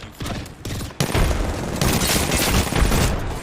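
Grenades and gunfire in an Apex Legends fight, loud, with dense overlapping bursts and booms that rise sharply after a brief lull and keep rolling continuously.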